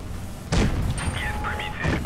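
A Pz IV tank in a tank video game fires a high-explosive shell while moving, one sharp heavy boom at close range followed by a rumbling tail, under a voice talking over game engine noise.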